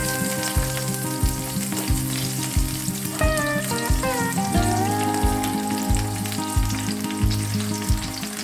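Oil sizzles loudly in a frying pan where breaded portobello mushroom caps are cooking, a close, continuous crackle with a few sharp pops and clinks partway through, and no one speaking.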